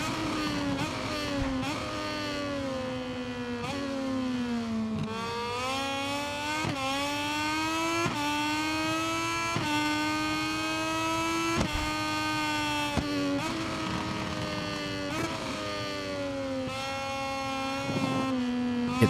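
A Moto2 racing motorcycle engine in the GP23 video game screams loud and continuous, the pitch sweeping up, then dropping sharply again and again with each quick gear shift.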